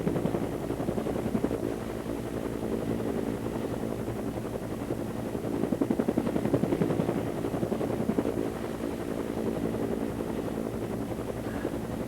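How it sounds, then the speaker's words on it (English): An Apache military helicopter hovers over Folly Beach after Hurricane Hugo in 1989, a steady loud rotor thump and turbine drone that holds constant throughout with no talk. "Helicopter, the Apache helicopter,"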